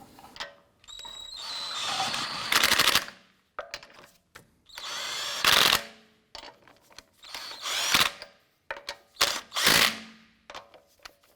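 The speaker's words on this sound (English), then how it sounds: "Get our lug nuts all started by hand first, and then we'll snug those down." Lug nuts being run down on an Acura TL wheel with a power tool, several loud whirring and ratcheting bursts of a few seconds each, separated by short pauses.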